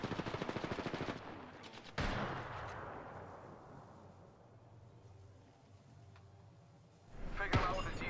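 Knuckle cluster weapon firing in a video game: a rapid burst of shots, a sharp blast and a long decaying rumble, then another loud burst near the end, with a voice speaking in between.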